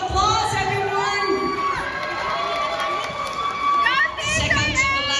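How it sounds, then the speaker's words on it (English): A crowd of children and adults cheers and whoops at an elementary school dance competition, loud shouting under music throughout, with a fresh swell near the end. "Another round of applause, everyone!"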